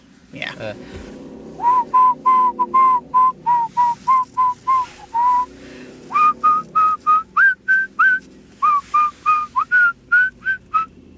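A slow whistled melody of the Muppet Show theme, clear and close, held notes in a steady rhythm with short gaps between phrases, rising to higher pitches in the second half.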